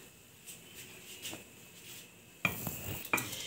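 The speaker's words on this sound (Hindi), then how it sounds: "इसमें हम डालते हैं अपने बॉयल हुए हुए चावल बड़े आराम के साथ, ताकि छिट ना पड़े" Cooked rice is eased into boiling milk in a pot for kheer, soft stirring and scraping with a couple of sharper metal clinks near the end, close and fairly quiet.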